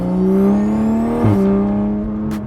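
A Toyota Supra exhaust with its valves open gives a loud, rising engine note that builds smoothly, blips sharply midway, then settles into a steady drone, close up with no talking.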